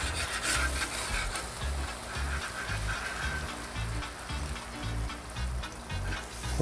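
Bananas soft-cooking in a brown sugar mixture on a FireDisc cooker, giving a steady close sizzle and bubbling fry with faint scraping textures and a low rumble underneath, continuous throughout.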